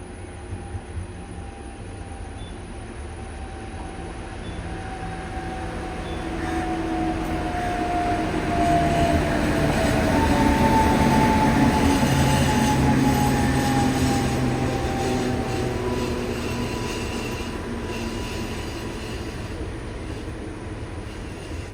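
The KSR Bengaluru–Kannur Express rolls into platform 2 at Nileshwar railway station, a sustained rumble that swells as it nears, with faint squealing wheel tones gliding over the roar before it eases slightly.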